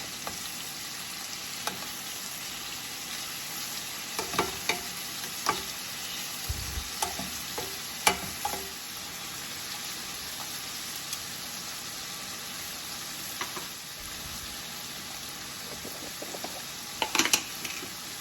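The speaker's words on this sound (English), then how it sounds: "once your shrimp has been cooking for 2 to 3 minutes on one side, go ahead and flip it over to the other side" Shrimp frying in a pan, with a steady sizzle running throughout and a few clear stirring and scraping clicks standing out against it. No one talks.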